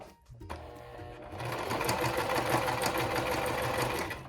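Sewing machine stitching a seam along the selvage edge of fabric, starting with a few slow clicks and then running in a steady, fast, close mechanical whir for the rest of the clip with no talking.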